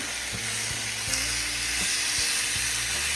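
Chicken breast sizzles in a hot pan, a steady close crackling hiss with small pops as it is turned, loud and without voices.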